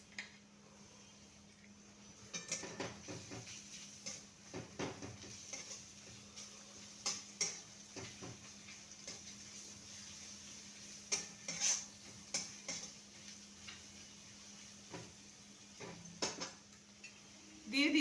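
Garlic grated into browned fried onions is stirred in a pan for a chola masala curry, giving intermittent spoon scrapes and light clinks over a faint sizzle, fairly quiet throughout.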